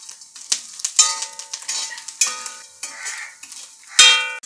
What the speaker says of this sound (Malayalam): മീഡിയം ഫ്ലെയിമിലിട്ട് തന്നെ വറുത്തെടുക്കുക